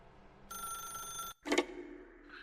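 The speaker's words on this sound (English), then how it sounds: "Pick up the phone and it will take us back home" A telephone rings once in The Stanley Parable: Ultra Deluxe video game, a fairly quiet bright trill against a low room hum, followed by a short clunky thump as the ringing stops.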